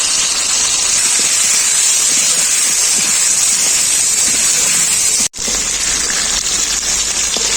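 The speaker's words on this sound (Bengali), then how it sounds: "প্রথমে আমি আলুগুলো ভেজে নেব" Potatoes, cut into large chunks with salt and turmeric, fry in hot oil, giving a loud, steady hiss that runs unbroken for several seconds, with one brief dropout near the end.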